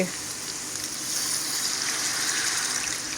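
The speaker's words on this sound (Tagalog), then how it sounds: "Tapos ngayon naman po ay lalagyan ko ng tubig" Water rushes and splashes into a hot pan of pancit, a hissing gush that swells slightly and keeps running, no one speaking.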